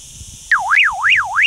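A Baofeng UV-5RA+ handheld radio sounds a loud electronic alarm tone that sweeps up and down in a steady, repeating wail, starting abruptly after a faint background.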